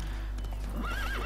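A horse gallops in the video game The Witcher 3, with steady hoofbeats under a loud whinny that rises and falls near the end, close and clear with no talk.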